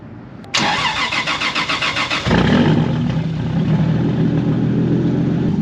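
A straight-piped Toyota Supra engine cranks and fires with a loud roar, pulses rhythmically for a moment, then drops into a steady, smooth, close idle rumble with no talking.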